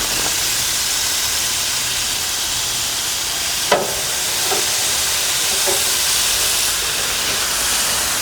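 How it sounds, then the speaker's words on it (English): A steak sizzles on a grill with a loud, steady broad hiss and a couple of faint clicks partway through, with no voices. "And this is just going right on the grill."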